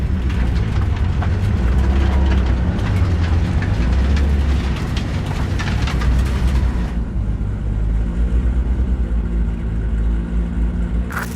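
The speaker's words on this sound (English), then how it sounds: "maybe we should just hijack the train" Train in Cyberpunk 2077, a loud continuous low rumble and clatter of rail wagons running steadily throughout, with a shift to a smoother hum near the end and no talk.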